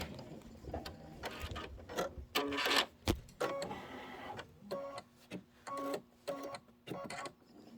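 Domestic sewing machine stitching fabric for a quilted table topper, running in repeated short bursts of rapid mechanical whirring and clatter with brief pauses between, close and fairly quiet.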